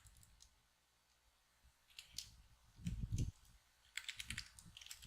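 Typing on a computer keyboard while writing a PocketMine plugin, scattered soft clusters of key clicks and thumps, quiet and close, with pauses between bursts.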